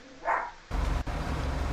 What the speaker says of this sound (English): I hear a dog. And there's a dog.